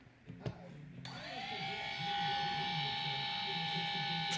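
Faulty Cheerson CX-20 quadcopter brushless motor spinning up with a harsh, high electric whine and gritty buzz, settling into a loud steady drone after a few clicks and a brief voice.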